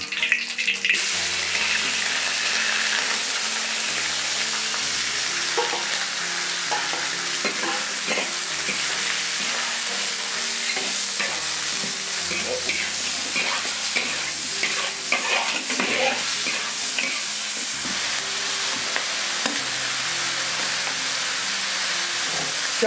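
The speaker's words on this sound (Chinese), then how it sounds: "土鸡下锅了呀。" Free-range chicken sizzles loudly as it is stir-fried in a wok over a rustic earthen stove fired with straw, with continuous frying hiss and repeated scraping stirs throughout and no talk.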